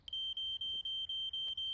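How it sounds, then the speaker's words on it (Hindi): A cartoon smoke alarm gives a run of seven or eight evenly spaced high-pitched beeps, loud and close, with no talk over it. "ये किसका स्मोक अलार्म बज रहा है?"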